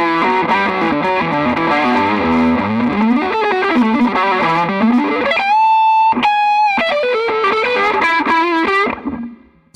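Electric guitar played through heavy distortion, loud and close, with a run of chords and notes before sustained ringing tones that cut off abruptly.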